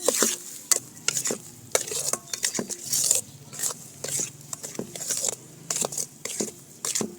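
Wheat flour roasting slowly in ghee in a pan on a low flame gives a soft sizzle, broken by repeated scraping and stirring strokes from a spoon against the pan in a steady rhythm, with no talk.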